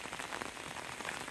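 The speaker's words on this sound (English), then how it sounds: "it's still warm and it's just a light rain" Light, warm rain patters steadily on a surface in the woods, a soft, even hiss of droplets with no other sounds.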